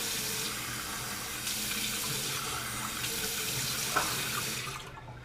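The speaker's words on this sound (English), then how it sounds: "So let's rinse off. First with hot. And now with cold." Bathroom tap runs steadily into a sink for rinsing after a shave, hot then cold, a continuous close hiss of water with a brief clink near the end before it fades.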